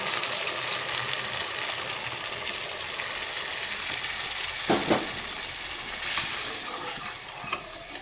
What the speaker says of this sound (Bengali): এখন এই পর্যায়ে আমি দিয়ে দিব নারকেলের দুধ